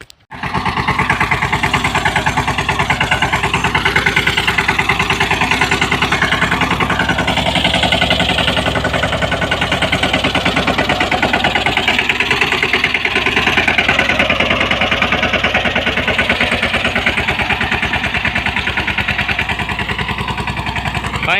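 A small tractor engine runs steadily while sowing jowar in a field, a loud continuous mid-pitched chug that holds an even rhythm throughout with no talk.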